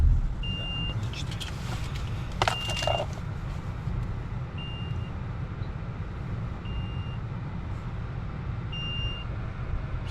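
A Honda Shuttle hybrid runs on electric power alone, heard as a low, steady road rumble inside the car with faint beeps repeating every couple of seconds and a few brief clicks.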